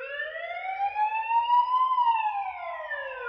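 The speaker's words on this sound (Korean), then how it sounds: "공습경보 발령. 시민 여러분은 지금 즉시 가까운 대피소로 피해 주십시오." A World War II air raid siren wails alone, its rising tone sweeping slowly upward to a peak and then falling, steady and loud throughout.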